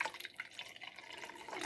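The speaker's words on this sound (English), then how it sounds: "I get a funnel and then a little container and pour my milk into it" Homemade almond milk pours through a funnel into a small jar, a soft, faint trickle with light dripping splashes over a brief moment, quiet and close.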